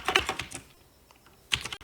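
Quick keystrokes on a computer keyboard, a short burst of close clicks, a brief pause, then a few more taps.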